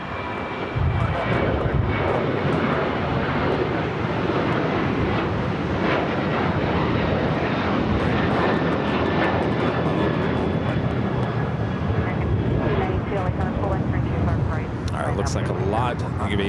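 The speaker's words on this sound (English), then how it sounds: "Flight taking off with Delta Airlines, Flight 622, heading to Austin, Texas, in the 737-900 ER." Delta Airlines Boeing 737-900ER jet taking off at LAX, a loud continuous engine roar with broadband rumble and whine holding steady throughout, with people talking over it.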